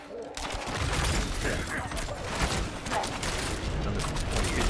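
Rogue archer's Barrage skill in Diablo IV loosing volleys of arrows, a dense, continuous clatter of rapid impacts and whooshes with game combat noise throughout.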